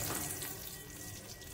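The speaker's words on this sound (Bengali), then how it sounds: "এবারে বেগুনগুলো দিয়ে দেবো তেলের মধ্যে। এবারে বেগুনটা ফ্রাই করব।" Eggplant pieces fry in hot oil, giving a dense, steady, close sizzling hiss with fine crackle and no pauses.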